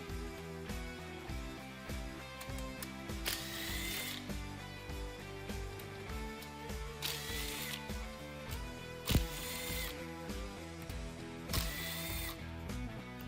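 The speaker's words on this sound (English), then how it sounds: "Then remove the 6 bolts that hold the snout to the Supercharger." Ratchet wrench removing the six bolts from a Hellcat supercharger snout, with rapid close clicking in repeated bursts over a steady background hum and occasional sharp knocks, no talking.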